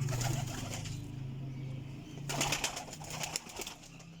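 Kasuri pigeons kept at a rooftop breeder's loft coo in low, throaty rolls, a steady murmur at first and then a louder burst of rustling and calls partway through, close by with no talking.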